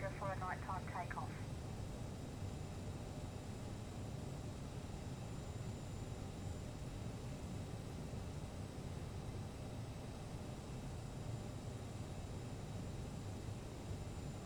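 Simulated airliner at Zurich Airport in Microsoft Flight Simulator 2020, heard from the cabin at night: a steady, loud engine and cabin roar throughout, with a short chime at the start and faint voices underneath.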